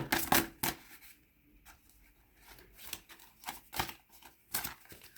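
Tarot cards are shuffled up close in several quick, crisp bursts separated by short pauses, with no voices.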